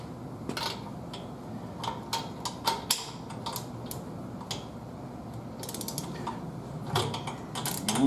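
A 3/4 inch socket wrench ratcheting while loosening the bolts on a brass instrument's cylinder and rotary valve, giving bursts of close, crisp clicking that come and go in short runs over a steady background.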